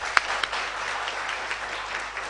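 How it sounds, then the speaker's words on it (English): Audience at an Institute of Cost and Management Accountants of Bangladesh event applauding, a steady wash of many hands clapping heard from a moderate distance and fairly faint, with no voices over it. "let's give them a big clap for this thing"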